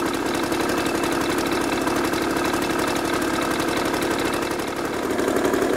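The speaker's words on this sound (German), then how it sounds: "So, ich habe jetzt mal den Motor angemacht" Piaggio TPH 125 two-stroke scooter engine idles up close, a steady, rapid buzzing putter with even rhythm and slight rattle, running unchanged for several seconds with no talk.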